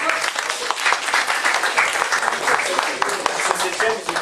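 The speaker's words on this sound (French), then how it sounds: "vous pouvez les applaudir" A dense crowd applauds steadily and loudly throughout at a team presentation for a U17 youth football tournament.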